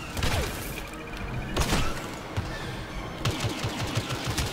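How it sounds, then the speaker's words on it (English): In the Star Wars Battlefront beta, an ion cannon fires amid battle noise, giving rapid rough bursts and thuds with a few sharp blasts over a busy background. "This is much easier with the ion cannon."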